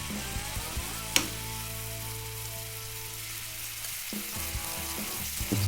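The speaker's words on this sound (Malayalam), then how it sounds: "ചിക്കൻ നേരത്തെ മാറ്റി വെച്ചത് നമുക്ക് ഇതേപോലെ ഒന്ന് പൊരിച്ചെടുക്കണം" Chicken frying in hot oil for Korean chicken buns, a steady loud sizzle running throughout with a sharp clatter near the start and some stirring movement toward the end.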